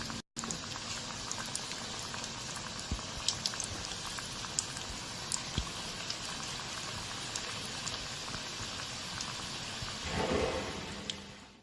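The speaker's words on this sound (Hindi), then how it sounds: "ऑयल गरम किया है तो ये हम इसे फ्राई करते जाएंगे।" Vegetable pakoras and onion bhajis sizzle in hot oil over a medium flame, a dense, steady crackling hiss that holds evenly throughout with small pops, alone without talk.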